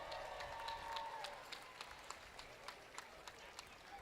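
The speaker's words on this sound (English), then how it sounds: "Give them another round of applause, everybody." An audience at a Tunnel to Towers event in Charlotte honoring fallen responders gives a fairly distant, soft round of applause, scattered claps popping through a steady wash as it slowly tapers off.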